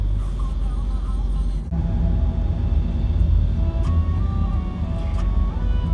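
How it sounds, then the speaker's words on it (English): A car cruises through the Al Shindaga underwater tunnel beneath Dubai Creek, a loud steady low rumble of road and engine noise echoing around the cabin, with brief tonal sounds layered over it. "now we are entering the Al Shindaga tunnel"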